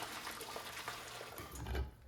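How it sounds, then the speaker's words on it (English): Boiling water poured into a crock pot for chili, a steady close gush of liquid with a brief swell near the end and no talking. "Add the boiling water to your crock pot."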